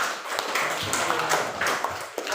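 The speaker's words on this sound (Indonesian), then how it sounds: "tepuk tangan bagi kasih" Classroom group clapping at a school presentation, a dense burst of many hands with uneven bursts and small peaks, close and fairly loud throughout.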